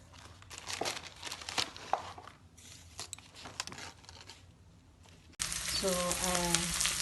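Onion and garlic sautéing in a frying pan, crackling and crinkling irregularly at close range; a voice talks over the first part before a steadier, louder sizzle takes over.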